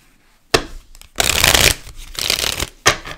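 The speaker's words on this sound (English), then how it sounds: "One more shuffle." Tarot cards being shuffled by hand during a reading: sharp riffling bursts and soft slides of the deck, loud and close, in quick succession.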